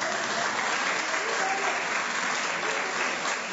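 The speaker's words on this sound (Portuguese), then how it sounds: "Salva de palmas" Steady, dense applause from an audience at a lecture, a continuous wash of many hands clapping evenly throughout, fairly loud and with no speech over it.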